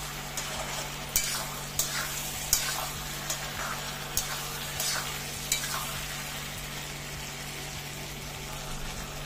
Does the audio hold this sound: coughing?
no